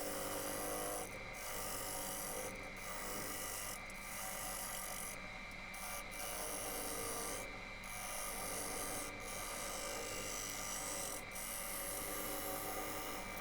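A wood lathe spins an out-of-balance 14-inch elm stump bowl blank at 800 RPM, a continuous rasping, scraping tool cut with a rhythmic pulsing thump roughly every second from the wobbling blank.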